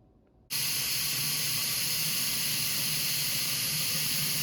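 A pump sprayer releases a health supplement mixture onto blighted tomato plants as a loud, steady hiss that starts abruptly after a brief quiet moment and keeps going unbroken.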